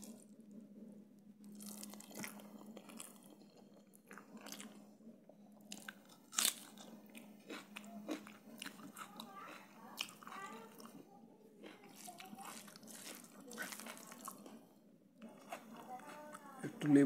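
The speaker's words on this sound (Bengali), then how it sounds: "খাওয়া শুরু করি" Someone eating a rice meal makes close, quiet bites, crunches and moist chewing sounds in an irregular rhythm, with some soft talking mixed in and a low steady hum behind.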